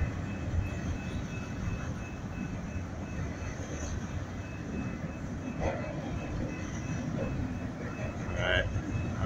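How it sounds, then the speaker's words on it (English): A Santa Fe Railroad freight train hauling empty cars passes through California's Central Valley, heard as a steady, low, rumbling roll with faint clanks, fairly quiet and constant throughout. "This is the Santa Fe Railroad."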